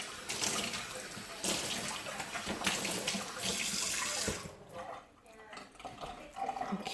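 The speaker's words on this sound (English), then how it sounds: "let me just rinse this out" A small shot glass is rinsed under a running kitchen tap, water streaming and splashing close by with brief clinks, while someone speaks intermittently over it.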